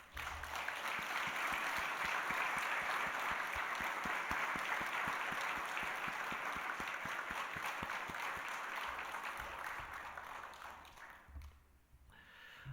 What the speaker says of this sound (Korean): 우리 임상순 선교사님 부부를 박수로 환영하겠습니다